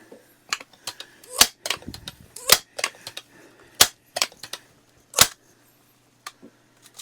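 A Crosman 1400 .22 air rifle fires Crosman Piranha pellets, giving several sharp, close cracks at irregular intervals, interspersed with quieter clicks and handling taps between shots.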